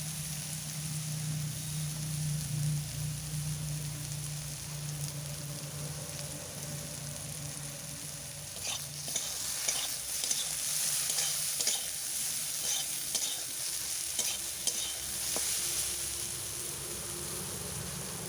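Eggplant (brinjal) slices fry in hot oil in a pan while being stirred, giving a steady sizzle with scraping and clatter that grows busier in the second half, and no voices.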